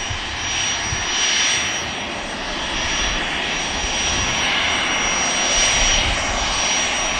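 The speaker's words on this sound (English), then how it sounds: "aircraft heading down" A departing aircraft bound for Cannes, France, roars steadily with a broad, loud engine rumble and hiss outside Manchester Airport, sustained without a break.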